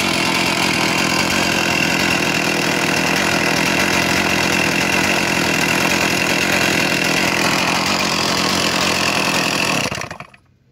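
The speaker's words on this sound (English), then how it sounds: "Now this chainsaw is ready to store for another while." A chainsaw engine running on fuel and oil mixture, a loud, steady buzzing idle close by that cuts off abruptly near the end.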